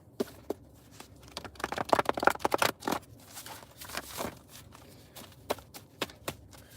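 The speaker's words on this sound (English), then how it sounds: "let me shuffle them one more time" Tarot cards shuffled by hand at a reading: a quiet, close series of soft riffling clicks and snaps, clustered irregularly with brief pauses.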